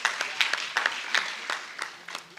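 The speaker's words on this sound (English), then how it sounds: "I thought we would clap hands for ourselves" An audience at a provincial general council of the SADTU teachers' union in Limpopo claps hands in a scattered, uneven rhythm with distinct separate claps, moderately close, with no talking.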